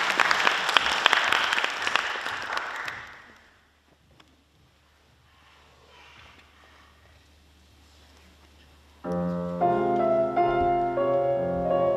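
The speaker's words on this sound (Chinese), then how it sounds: "掌声有请" Audience applause at a Chopin art song recital, a dense burst of clapping for about three seconds that fades out, followed by quiet and then piano chords entering.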